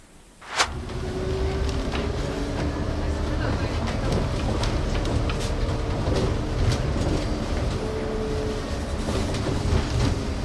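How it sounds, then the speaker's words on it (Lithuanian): A train in Lithuania on the way to Trakai, its steady rolling rumble and rattling carriages heard from on board, constant and loud after a sharp bang near the start. "Nežinojau, kad Lietuvoje yra tokie traukiniai."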